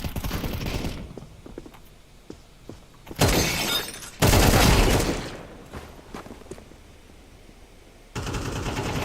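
Molotov cocktail thrown in a tactical shooter game, a sharp glass shatter followed by a roaring burst of flame, set among bursts of rapid gunfire and footsteps.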